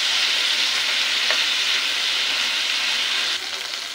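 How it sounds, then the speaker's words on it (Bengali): Chicken pieces sizzling in hot oil in a wok, being flipped over for a Bangladeshi curry: loud, close frying hiss with a brief scrape of stirring partway through, dipping slightly at the end. "উলট পালট করে আমি দুই পাশে ভেজে নিব।"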